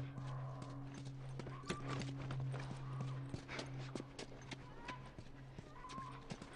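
A horse's hooves clip-clop at a steady walk in The Last of Us video game, with faint snorts, low-level background noise and a distant hum under the irregular hoof strikes.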